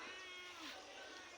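A single short cat meow, faint and close, rising and falling briefly above quiet room noise.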